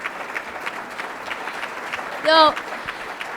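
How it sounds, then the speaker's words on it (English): A crowd applauding coach Mitch Connor at a gymnastics hall of fame ceremony, steady clapping throughout with a short spoken word breaking in near the end. "please give him a round of applause"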